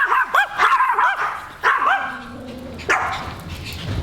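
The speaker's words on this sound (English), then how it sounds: "The dogs are going crazy outside." Dogs bark outside, a loud close cluster of excited barks and yips in bursts with brief whimpering gaps, no talking over them.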